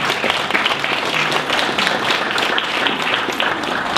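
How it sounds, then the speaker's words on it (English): A room full of people applauds steadily, dense clapping sustained throughout at a fairly loud, close level. "Let's give Ross a good round of applause."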